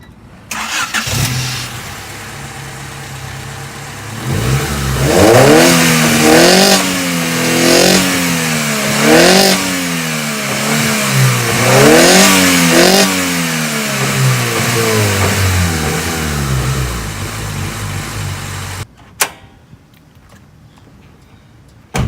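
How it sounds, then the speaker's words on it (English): A Honda car engine fitted with an intercooler revs up repeatedly in rising and falling bursts, loud and close, then settles toward an idle before cutting off abruptly. "Want to make your Honda sound like a V8?"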